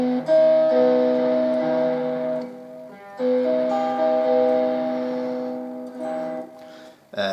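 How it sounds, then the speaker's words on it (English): Guitar playing augmented chord arpeggios in two ringing passes of sustained, layered notes, each fading before a fresh attack, close and clear with no voices. "Last but not least, we have the augmented chord."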